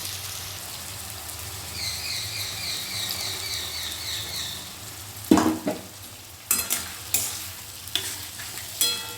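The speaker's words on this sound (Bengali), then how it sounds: "একটু মশলাটা কষিয়ে নেব আর এই কষানোর সময়তে কিন্তু আমি দিয়ে দেব হলুদ গুঁড়ো" Spice paste stir-fried in a pan for a fish-head and cabbage curry: a steady close sizzle, then a run of sharp scraping clicks from a spatula working the pan, with no talking.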